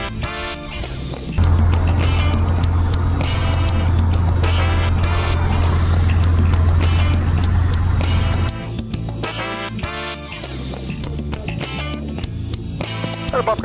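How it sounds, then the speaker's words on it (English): A Cessna 170 takes off from runway 33 at a short-takeoff competition, its engine running loud and steady at full power for several seconds before the roar drops away and cockpit rattle and wind take over. "Taking off runway 33."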